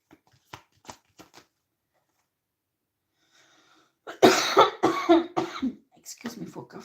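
A person coughs in a rough, harsh cluster of several coughs, close by, after some faint taps and rustling.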